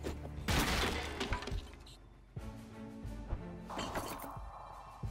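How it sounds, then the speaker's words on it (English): A box smashes in South Park: The Fractured But Whole, a loud splintering crash that rings on in a dense wash of game sound effects and music. "You just smashed that box like it was nothing."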